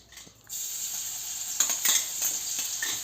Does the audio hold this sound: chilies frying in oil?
yes